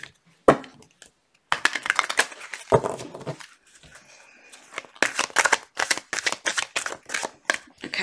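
Tarot cards are shuffled in quick riffling bursts, papery flutters repeating with short pauses between, close and fairly quiet.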